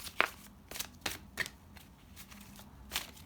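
Tarot cards shuffled by hand in a quiet room, several soft papery riffles and slaps coming in irregular bursts, close and faint, with no talking.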